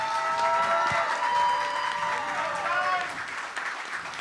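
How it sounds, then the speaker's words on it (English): Audience applause for a panel of women at a hip-hop day party, a crowd clapping and cheering at moderate distance, with voices and whoops mixed in, tapering slightly toward the end. "Can we just get a round of applause for the amazing women in the panel?"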